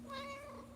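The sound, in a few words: cat meowing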